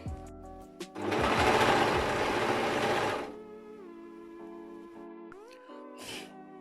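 Sewing machine stitching patchwork pagne fabric, a loud, close, fast mechanical whirr lasting about two seconds, then stopping, with quiet handling noises around it.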